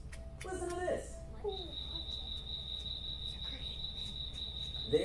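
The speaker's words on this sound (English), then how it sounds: "You may think that frogs croak, but he sort of chirps." A small frog gives a thin, high, continuous chirping trill that starts abruptly and holds steady for several seconds, after a brief bit of speech at the start.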